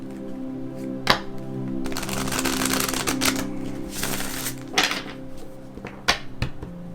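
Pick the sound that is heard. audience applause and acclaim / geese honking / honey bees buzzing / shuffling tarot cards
shuffling tarot cards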